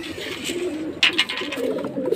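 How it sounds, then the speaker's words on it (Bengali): Pigeons coo softly and steadily while entering their coop, with a brief flutter or scuffle partway through, close by and fairly quiet. "একে একে পায়রা ঢুকেও যাচ্ছে ভিতরে"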